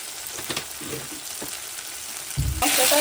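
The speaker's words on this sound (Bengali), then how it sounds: "ভালো করে কষিয়ে নিই" Desi-style chicken curry masala with turmeric and salt is sautéed in a pan: a constant crackling sizzle with several spoon knocks and scrapes, then a louder clatter and surge of frying noise at the end, with no speech.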